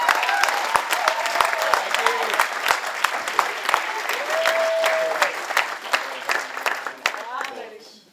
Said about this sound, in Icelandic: hanna Kristjánsdóttir og Ragnar Steinarsson, gefið einn gott klapp.